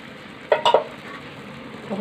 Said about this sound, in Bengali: এবার দেখুন কি করে দিচ্ছে, যে ময়দা সুজি গোলাটা এরকম দিচ্ছে।